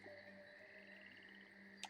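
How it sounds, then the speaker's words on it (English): Frogs croaking in the underworld crossroads of the game Hades II, a faint chorus with a rapid trilling call in the middle and a sharp close chirp near the end, no voices. "And listen to the frogs."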